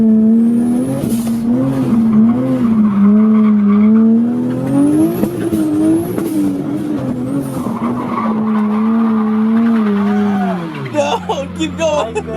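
A car drifting in second gear with the e-brake pulled, tires squealing loudly in long sweeping wails that rise and fall over a steady engine drone, then dropping off near the end.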